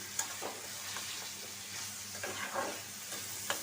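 Potatoes frying in hot oil beside taro stolons for a hilsa dish, giving a soft, even sizzle with a few light stirring scrapes against the pan.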